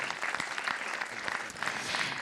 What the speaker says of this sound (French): Je pense qu'on peut les applaudir bien fort pour cette rencontre.